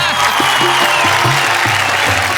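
A crowd claps loudly and continuously at a Hindi poetry gathering, a kavi sammelan, with a steady tonal hum running underneath the applause.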